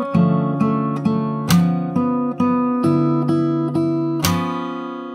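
Close acoustic guitar played fingerstyle runs through the full solo phrase, a steady sequence of plucked chords and bass notes punctuated by a couple of crisp string slaps, ringing clearly with no talking.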